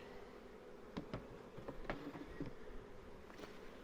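Honeybees buzz faintly around an open hive during a weekly check, a low steady drone with a few brief louder passes close by, soft and without talking.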